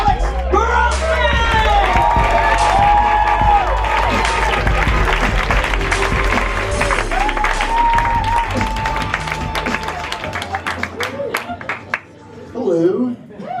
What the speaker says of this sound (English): Give him a big round of applause for Mr. Alex Grossman!